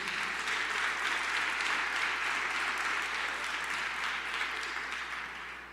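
A church congregation applauds together in a sustained, even wash of many hands clapping, filling the room at a steady level before easing off slightly at the end.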